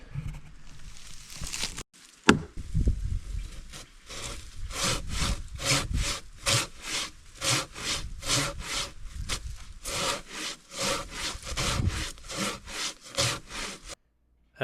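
Handsaw cuts through a log in a steady rhythm of rasping back-and-forth strokes, clear and close, after a brief pause and a knock near the start.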